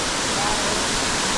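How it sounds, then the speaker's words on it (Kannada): Rushing stream water on the Netravati peak trek, running at a higher flow than usual, sounds as a steady, loud, continuous broadband hiss that stays even throughout, with no talk over it. "ನೋಡಿ ಇಲ್ಲಿ ಲಾಸ್ಟ್ ಟೈಮ್ ನೀರು ಇಷ್ಟು ಇರಲಿಲ್ಲ, ಈ ಸ್ವಲ್ಪ ಫ್ಲೋ ಜಾಸ್ತಿ ಆಗಿದೆ."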